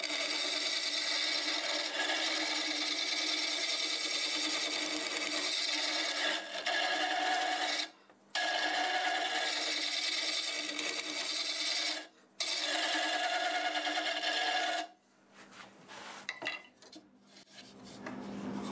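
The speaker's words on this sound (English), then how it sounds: "I think the negative rake scraper will clean it up enough where I can get it sanded" A negative rake scraper cleans chestnut end grain on a wood lathe, giving a steady broadband scraping rasp in three long passes broken by short pauses, then quieter tool touches and handling noise at the end.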